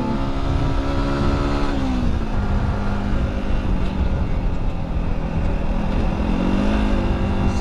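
A Bumblebee car engine rumbles close and continuous as the car drives off, its tone rising and falling with gear changes over a steady road roar, with no talking.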